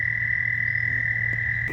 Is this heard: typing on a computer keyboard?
no